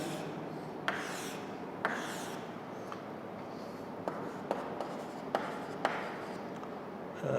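A pen scratches steadily across paper while writing accounting totals, a continuous close rubbing texture punctuated by several sharp taps and stroke ends, with no talking.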